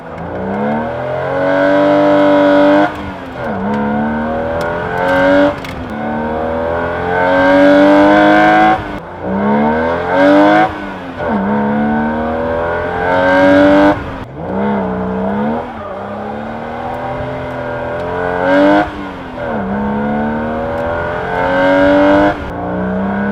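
A BMW E36 M3 with the S52 engine, heard from inside the car with the windows up, revving hard again and again, each pull climbing in pitch and growing louder as the Vanos engages, then dropping away between runs.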